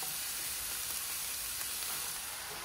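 Bhaji greens sizzle steadily after going into a hot pot for Guyanese curry, a constant even hiss of frying with faint stirring, close and uninterrupted, no talk.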